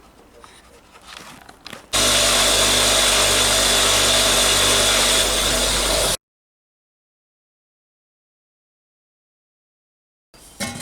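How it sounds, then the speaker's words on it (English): Buffing wheel polishing the edge of a steel armour plate, a loud steady whirring grind lasting about four seconds, then silence before faint noise returns at the end. "I'll give it a quick go on the proper buffing wheel"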